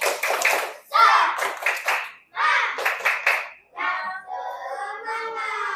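A class of children performs the rhythmic 'tepuk semangat' clapping routine. Patterned bursts of claps mix with their chanting voices, broken by short pauses and ending in a sung phrase.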